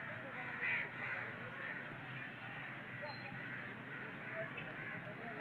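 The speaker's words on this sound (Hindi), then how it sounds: "कौवा ने जी अपना ही शोर मचाया हुआ है।" Crows cawing repeatedly in the distance over a steady outdoor hiss, with a louder caw near the start.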